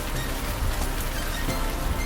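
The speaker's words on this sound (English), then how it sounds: "This was not in the forecast, but hey, it wouldn't be a travel day without a little bit of rain, right?" Rain falls steadily on a travel day, a dense, even hiss of drops close by with no pauses and no voices.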